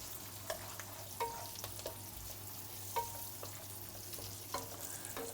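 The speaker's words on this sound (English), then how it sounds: "when I fry the onion, I just want to make sure that they're all separated or well separated" Sliced onion sizzles quietly in a hot frying pan for a stir fry, with soft intermittent scrapes and taps of a utensil stirring it, alone and close.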